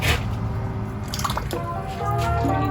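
An original Whopper Plopper fishing lure is pulled through water in a trough, making close, wet plopping and dripping sounds with a steady splashy churn and no voices.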